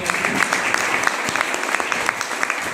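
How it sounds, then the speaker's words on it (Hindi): Enthusiastic audience applause at a family business meeting, steady dense clapping from a crowd that carries on strongly for the whole stretch with no talk over it. "और मैं एक बार जोरदार ताली हमारी बहनों के लिए"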